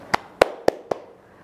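Four sharp hand claps in an uneven, deliberate rhythm, each crisp and close with a short decay, against a quiet background.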